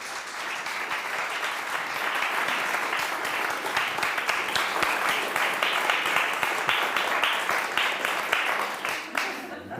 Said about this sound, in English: going to ask the audience now to give Dermot a big round of applause.